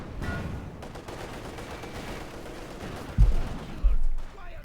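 Gunfire in the World War II strategy game Company of Heroes 2, a low rumbling battle bed with two heavy thumping bursts near the end while a commentator talks over it.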